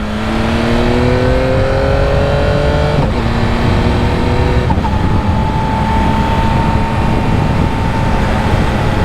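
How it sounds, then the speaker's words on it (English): A 2025 Yamaha MT-09 SP motorcycle with its stock exhaust accelerates hard, its engine note climbing steadily through the gears with a short break at a shift, loud and close over continuous road and wind noise. "even with the stock exhaust, I don't hate the sound of it."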